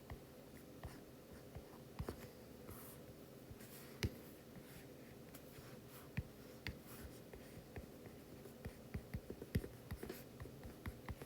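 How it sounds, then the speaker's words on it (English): Pen or marker writing an economics equation, soft continuous scratching strokes with small taps, faint and close, with no voices. "I'm going to write this"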